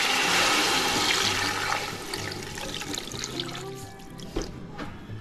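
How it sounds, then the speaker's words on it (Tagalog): Water rushes into a pot of fried whole chicken for tinola, a loud gushing pour that tapers into bubbling and a few splashes, with no talking. "Lagyan na natin ng tubig mga kasolid."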